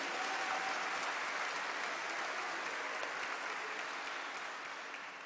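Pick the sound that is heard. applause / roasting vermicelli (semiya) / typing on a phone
applause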